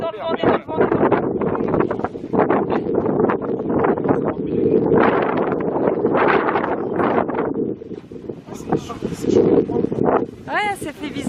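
Strong wind gusting across the open landscape at Yellowstone, a steady loud roar with buffeting against the microphone throughout, with voices talking over it.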